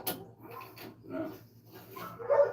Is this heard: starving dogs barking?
yes